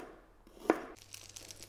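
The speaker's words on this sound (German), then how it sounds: "geschälte Karotte in dünne Scheiben schneiden." One crisp crunch of a knife slicing through a peeled carrot on a board, a single quiet cut followed by faint kitchen noise.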